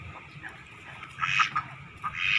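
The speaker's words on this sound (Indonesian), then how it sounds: "bebek itu tipe unggas yang berisik teman, bising lah" Domestic ducks on a farm quack noisily in short, scattered calls, moderately close over faint background murmur.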